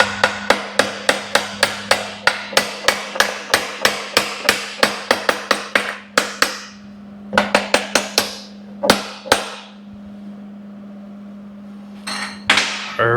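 A small hammer taps repeatedly on a workpiece overhanging a table during a shop elevator build, loud sharp strikes in a quick steady run, then sparser blows with pauses, ringing over a constant low hum.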